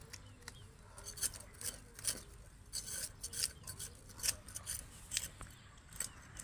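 Scissors snip through a kamalkat fish in repeated quick, crisp cuts, quiet and close, with soft rubbing and scraping between the snips.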